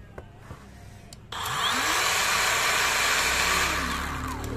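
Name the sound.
cordless circular saw brushless motor running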